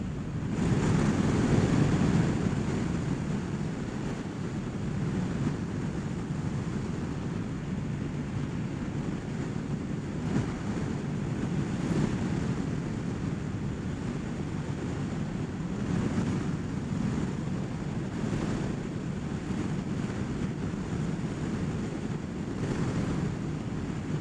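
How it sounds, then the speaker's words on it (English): Rushing wind buffets a rider on a Ninja 1000SX sport touring motorcycle, a continuous low roar with gusty swells that persists throughout, with no voices. "the wind's just wanting to blow me all over the place"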